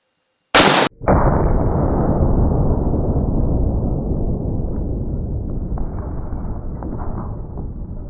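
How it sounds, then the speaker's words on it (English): A 12 gauge blank fires from a Nomad single-shot shotgun in one sharp, loud blast, followed after a moment by a long, steady roar of wind or rumble that slowly fades over several seconds. "This is a 12 gauge blank and I'm gonna be using a Nomad single shot 12 gauge"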